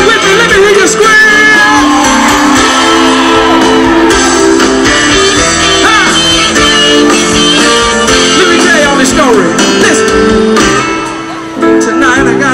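A live audience at a blues and soul performance in Holly Springs, Mississippi, shouts and screams loudly over amplified music, a constant roaring wall of voices that dips briefly near the end.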